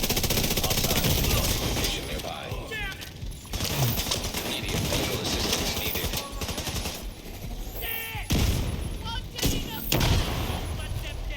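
A grenade launcher fires in The Division 2, with rapid booming shots and explosions layered over dense gunfire, loud and sustained while a voice talks over the action.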